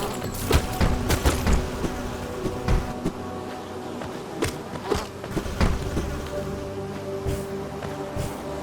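Hive Guardians in Hollow Knight buzzing like insects while dive bombing, a continuous droning hum punctuated by sharp impacts and thuds throughout.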